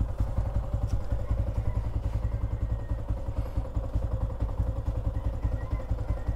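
A 2023 Yamaha Sniper 155R motorcycle engine with 30,000 km idles close by with a steady, rapid low thumping pulse that stays constant throughout.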